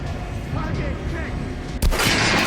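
A single loud gunshot at a training dummy in Metro Last Light, cracking sharply out of a dense, rumbling game ambience with a heavy booming tail.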